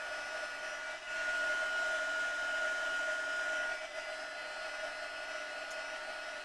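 A hair dryer blows steadily and fairly quietly, drying ink on a craft card, with a constant airy whoosh that briefly dips twice in pitch and strength.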